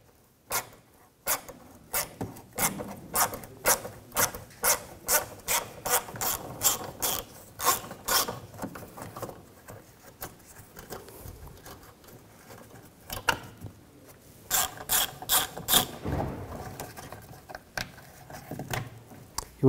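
A ratchet fitted with a 7mm socket clicks in rapid bursts while removing bolts under the rear of a 2007-2016 GMC Acadia, with a pause in the middle before the clicking resumes.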